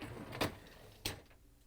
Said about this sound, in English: we have to open up the dishwasher door and pull out the upper rack